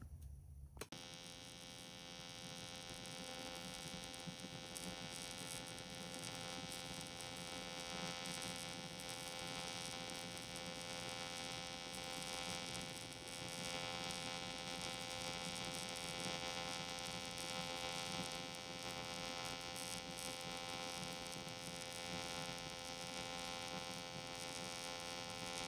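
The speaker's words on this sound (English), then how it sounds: "let's go over here and drop some welds and see what it looks like" An Everlast Lightning 212 AC TIG welder runs in power set mode, giving a continuous, even electrical buzz and hum with faint crackle. It starts after a brief click and holds steady for nearly the whole stretch.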